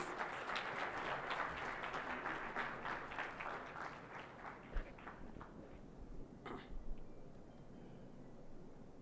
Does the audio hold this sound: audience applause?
yes